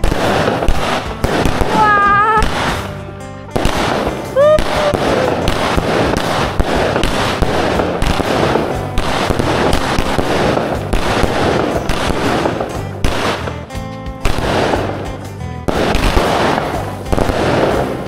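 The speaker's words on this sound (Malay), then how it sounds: "bakar bunga api, bunga mercun" Hari Raya fireworks and firecrackers in Kuching crackle and pop in dense, loud, continuous bursts outdoors, with a few whistling rockets rising among the rapid snaps.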